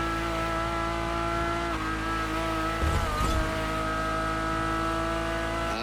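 A Ferrari supercar engine in a racing video game, heard from inside the car, drones in a steady, high-pitched whine, shifting pitch slightly, with a brief rough scrape partway through.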